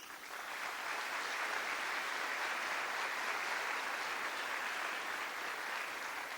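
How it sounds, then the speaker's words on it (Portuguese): Steady, dense applause fills a church congregation's space, a continuous wash of many hands clapping at an even level, heard from some distance throughout. "Dá uma salva de palmas para isso."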